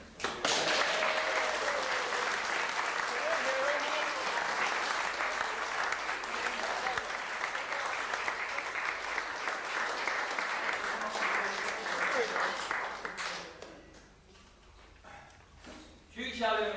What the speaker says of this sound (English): we should now give a round of applause to the people that we have behind us